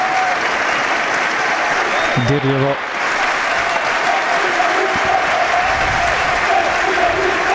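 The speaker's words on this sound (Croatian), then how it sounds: "Evo i aplauza" A stadium crowd applauds during a Željezničar versus Velež football match, with loud, sustained clapping throughout and a commentator talking over it.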